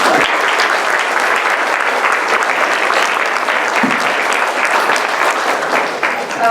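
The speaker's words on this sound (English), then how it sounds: "please give a round of applause to your support system" Loud, steady audience applause fills the room at a school board meeting honoring newly tenured teachers, a dense wash of many hands clapping continuously from start to finish.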